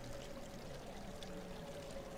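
Water flowing in a pit below in the game Half-Life: Black Mesa, a steady broadband rushing and pouring wash that stays even and continuous throughout, moderately loud with no talk over it.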